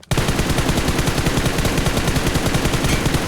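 Loud, continuous automatic gunfire rattles in rapid, evenly spaced bursts as shots hit enemies in the mobile battle royale game PUBG Mobile, filling the whole stretch without pause.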